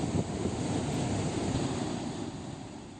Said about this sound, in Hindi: बांध के 14 गेट खोलने पड़े हैं बारिश की मार और किस तरीके से लबालब पानी भरा हुआ है सिद्धेश्वर बांध में।